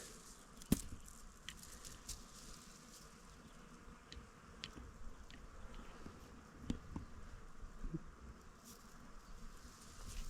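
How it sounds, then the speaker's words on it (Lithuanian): Soft, steady insect buzzing, like bees at blossoms, drifts through quiet outdoor air with a few faint clicks and taps; no voices. "Kvapas, bičių dūzgesys."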